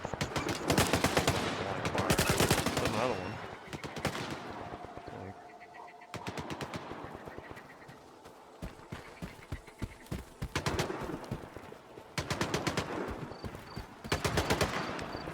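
Stalker 2 firefight: rapid automatic bursts, loud and close, come in several clusters separated by short lulls, with a brief spoken remark between volleys.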